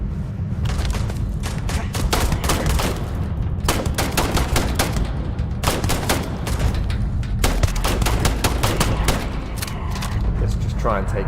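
Heavy gunfire in the space game Starfield, dense bursts of rapid automatic shots and impacts crackling over a loud rumbling bed, with a voice speaking over the fighting.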